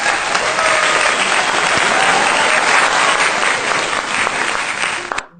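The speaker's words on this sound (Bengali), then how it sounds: "সবাই ওর জন্য একটা হাততালি দেয়।" Sustained, loud audience applause for a quiz contestant, a dense wash of clapping that holds steady for about five seconds before cutting off abruptly, with no talk over it.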